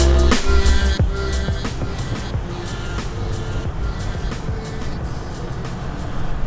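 A car drives into the main street of Kuta, Lombok, with a steady engine and road rumble from inside the vehicle and scattered knocks and clatters over it.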